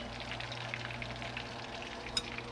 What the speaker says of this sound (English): I'm not gonna let this fry too much because I don't want it to be dry.